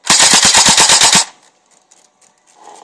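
An AK-37 BB gun fires in automatic mode: a rapid burst of about ten sharp, loud shots in quick even rhythm, then stops abruptly, followed by faint handling noises.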